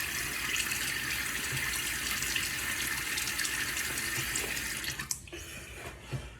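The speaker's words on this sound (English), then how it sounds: "Let me get my face wet." Tap water runs steadily from a faucet into a sink as a face is wetted before a shave, a close, continuous splashing rush that stops abruptly near the end, leaving a few faint drips and handling sounds.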